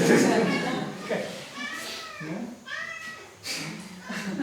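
A cat meows repeatedly, several close, drawn-out calls of shifting pitch following one another in quick succession.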